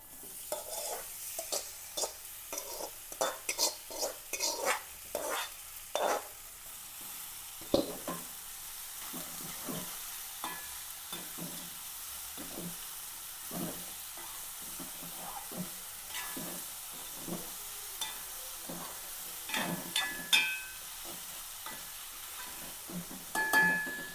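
Chopped ivy gourd (kovakka) frying in a pan with chilli, a soft steady sizzle broken by repeated scraping and clinking strokes of a spoon stirring against the pan.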